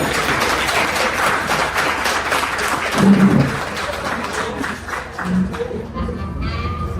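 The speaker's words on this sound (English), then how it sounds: "So I want everybody to give a nice round of applause to Jonelle Hinn" An audience applauds at a business event with a small business official, a dense, steady patter of clapping from a crowd that thins toward the end, with a voice briefly heard over it.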